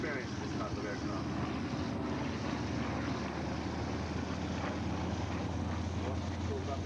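A warbird aircraft flies over the Wanaka air show in 2004, producing a loud, continuous engine roar that holds steady throughout, mixed with outdoor wind rumble.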